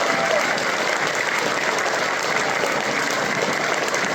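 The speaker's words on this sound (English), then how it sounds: "Please give them all a big round of applause" Steady, enthusiastic applause from a large crowd at Rundle Mall, Adelaide, welcoming the Sheffield Shield-winning South Australia team, a dense wash of clapping that holds at the same level throughout.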